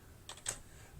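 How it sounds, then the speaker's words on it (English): Three quick, faint key taps on a calculator keypad entering numbers for a math problem, close and crisp, the last tap slightly louder, with near-silence around them. "I'm going to be typing in"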